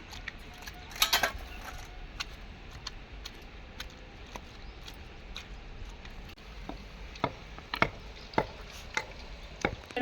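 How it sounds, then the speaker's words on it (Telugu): Chutney being pounded in a stone mortar, heard as irregular sharp knocks and taps, sometimes in quick clusters, close by over a quiet background with no talk. "రోట్లో అమ్మ దంచుతుందండి రోట్లో పచ్చడి అంటే సూపర్ ఉంటుంది కదా అందుకే నేను రోట్లోనే దంచుతున్నాం"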